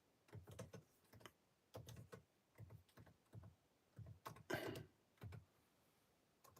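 Quiet bursts of keyboard typing while a message is entered, short clusters of clicking keystrokes separated by brief pauses, close and soft in a still room.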